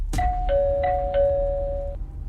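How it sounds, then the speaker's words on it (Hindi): A doorbell chimes clearly, a sharp strike followed by a few ringing tones that sustain and fade, with a low rumble underneath. "ठीक उसी समय डोरबेल बजी।"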